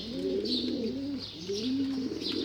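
Pigeons or doves coo repeatedly near a mango tree, their soft, rolling calls coming in close, overlapping phrases with faint chirps above and no voices.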